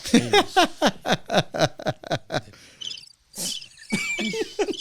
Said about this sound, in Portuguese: Um grilo aqui, ó.